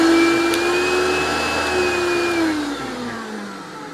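A 1993 Hoover PowerMax upright vacuum cleaner with a 2-speed motor runs close by. Its loud whining motor tone holds steady, then dips lower and fades somewhat toward the end.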